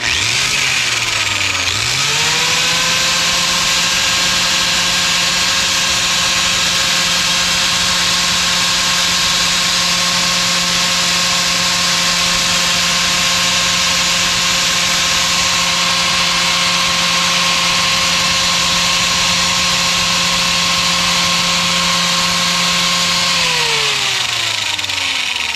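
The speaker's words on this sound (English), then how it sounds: "next up is a little Harbor Freight angle grinder. Let's see what this does." A small Harbor Freight angle grinder powered through a TYCORUN 1000 W pure sine inverter spins up, holds a loud, steady high-pitched whine for about twenty seconds, then winds down, close and alone.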